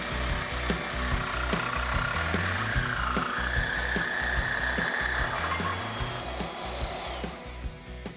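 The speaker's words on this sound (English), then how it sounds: "You know why I always win the Sawzall race?" A Sawzall reciprocating saw cuts through material in a custom car garage, a steady, rhythmic buzzing with rapid pulses that runs loud and close throughout.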